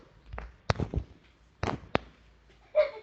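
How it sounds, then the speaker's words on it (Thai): Gunshots in the mobile shooter game Crisis Action: a handful of sharp, separate cracks spaced irregularly over a few seconds, fairly close and punchy against a quiet background. "เดชโอ้ยนันเดชโดนยิง ไม่น่ารอดว้าย"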